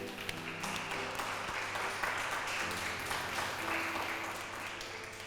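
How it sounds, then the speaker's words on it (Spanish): Applause from a church congregation during a Spanish-language sermon, a steady wash of clapping that holds evenly for several seconds at moderate distance, with faint tonal background sound beneath it. "¿Cuánto pueden dar un aplauso para el Señor?"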